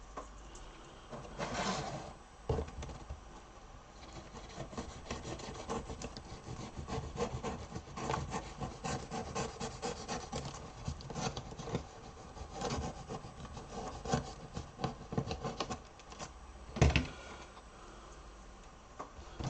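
Edges of a wooden model are trimmed and filed by hand, producing continuous scraping and rasping strokes with occasional louder knocks, close and steady with no talking.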